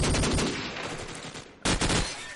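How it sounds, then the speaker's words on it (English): Rapid automatic gunfire in Counter-Strike during an Empire vs WelcomeReality competitive match, a dense, loud burst that eases off briefly before a second sharp volley near the end. "Does get punished for it though with a wallbang from Sharks"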